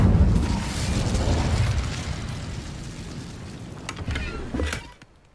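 A burst of fire from the Incendio spell cast in Hogwarts Legacy, a loud roaring whoosh up front that fades, with a second flare of crackling near the end before it cuts off.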